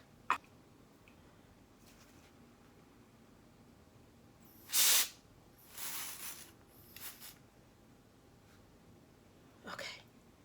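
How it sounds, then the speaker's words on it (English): Hair spray hisses onto a synthetic lace front wig in a few short bursts, the first loud and near, then softer puffs and one more brief spray, in a quiet room. "I'm going to spray a little of this spray to keep it back black"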